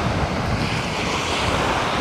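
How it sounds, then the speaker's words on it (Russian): Strong wind gusts steadily across a sandy beach on Bugaz Spit near Anapa, with surf rolling underneath in a constant, loud, unbroken roar. "здесь не так сильно дует ветер"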